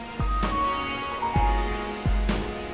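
Steady rain falls outdoors on a cold night, a constant broadband hiss with a few deep low thumps underneath.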